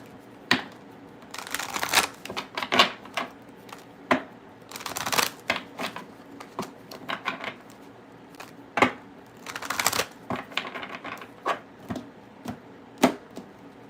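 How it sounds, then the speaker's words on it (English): Tarot cards being shuffled by hand, close up, in repeated riffling bursts and soft slaps of the deck against each other, steady and unhurried with brief pauses between. "The shuffling does take a little bit of time"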